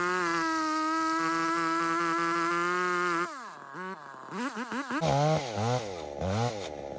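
A chainsaw cuts a conventional notch into a dead standing tree, first holding a loud, steady high-pitched whine, then bogging down and revving up and down in uneven bursts as the cut proceeds.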